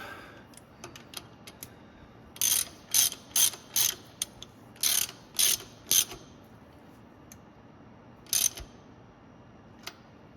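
Ratchet wrench tightening a starter stud on a John Deere 50, 60 or 70 tractor, heard as several loud bursts of rapid clicking, about eight short strokes grouped between quiet pauses, close up with no talking.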